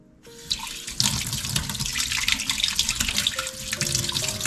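Cold water pours into a strawberry-flavored drink in a steady, close, splashing stream that starts abruptly and continues to the end, with no talking.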